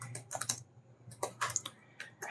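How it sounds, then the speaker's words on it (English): Typing on a computer keyboard while working in a Debian-based Linux terminal, a few quiet, close key clicks in short bursts with small pauses. "to write inside it, first we have to type I and then we can write anything"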